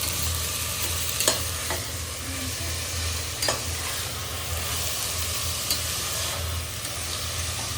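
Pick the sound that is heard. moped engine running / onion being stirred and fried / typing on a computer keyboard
onion being stirred and fried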